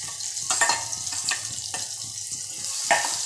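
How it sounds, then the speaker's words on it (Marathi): Sliced onion is tipped into a pan of garlic that has been frying until reddish, giving a steady, close sizzling hiss with soft rhythmic scrapes and stirs over the sputter of hot oil. "लसूण शिजल्यानंतर आता लालसर झाल्यानंतर त्याच्यामध्ये कांदा टाकला जात आहे"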